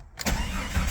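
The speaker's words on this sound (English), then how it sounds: "So here's a cold start." A Jeep Cherokee XJ engine cold-starts after sitting four or five days, the starter catching within a fraction of a second as the engine fires into a loud close rumble.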